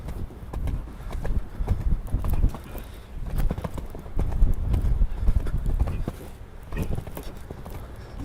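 Horse hooves clip-clop steadily during a riding lesson in an arena, a close, loud rhythmic beat of strides with occasional snorts and a faint voice in the background.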